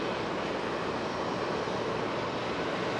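A KLM airliner from Amsterdam Schiphol at Geneva Airport, heard as a steady, broad jet engine roar with no breaks, moderately loud and continuous, with no voices.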